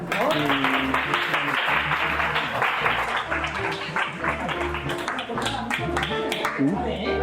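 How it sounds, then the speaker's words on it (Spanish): Audience applauding for Laura after a talk on humility in leadership, steady clapping from a seated crowd while voices carry over it. "vamos a darle otro aplauso a Laura"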